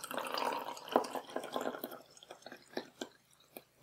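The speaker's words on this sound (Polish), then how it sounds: "Natomiast teraz wleję tutaj 100 ml wody." About 100 ml of water poured into a small measuring cup, starting as a brief continuous trickle and breaking into close, quiet drips and splashes.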